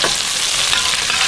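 Tomatoes, cut into three pieces each, fry in about 50 ml of oil, giving a steady, loud, close sizzle that holds without a break and with no voices.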